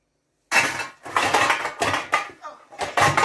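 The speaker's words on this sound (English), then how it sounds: "I am going to go ahead and cover the pot." A lid goes onto a large cooking pot holding cabbage, producing several close metallic clanks and scrapes in quick succession as it is shifted and set, with some speech mixed in.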